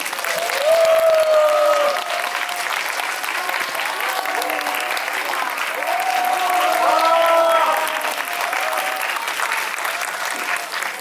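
An audience at a film screening Q&A applauds steadily and loudly for several seconds, with music playing underneath the clapping.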